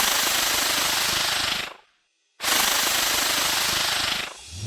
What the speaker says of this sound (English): the actual calls for the Giga Arachne that I was meant to showcase, the aggro call